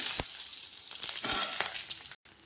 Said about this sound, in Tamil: அடுத்து இதில் பச்சை மிளகாய் போட்டுக்கலாம்.